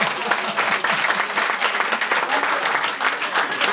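Loud, dense applause from a crowd at a Miss pageant launch event, steady clapping filling the whole stretch without a break.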